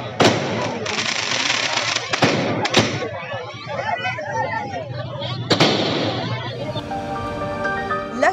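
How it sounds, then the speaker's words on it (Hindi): Fireworks bang and crackle repeatedly outdoors in Almora, India, celebrating a badminton gold medal win, with sharp loud bursts among a dense continuous crackling, and a crowd murmuring underneath. "अल्मोड़ा बैडमिंटन एसोसिएशन ने लक्ष्य की जीत पर चौगान पाटा में जबरदस्त आतिशबाजी की"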